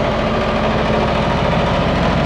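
Diesel engine of a boat on the Norfolk Broads near Wroxham, a loud, steady, close idling chug with a rapid even knock and low vibration throughout, with no voices.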